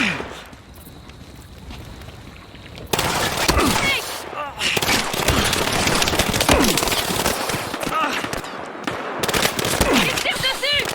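Gunfire in the Battlefield Hardline video game: a quieter stretch gives way to sustained, dense volleys of shots and explosions mixed with battle noise for most of the span.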